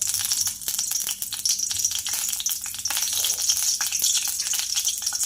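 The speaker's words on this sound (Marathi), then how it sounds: "मी तीन चम्मच तेल घातलेलं आहे यामध्ये आपण कढीपत्ता घालणार आहोत" Curry leaves dropped into three spoonfuls of hot oil for besan pitla crackle and sizzle steadily, with sharp pops and spits over a continuous frying hiss close by, no talking.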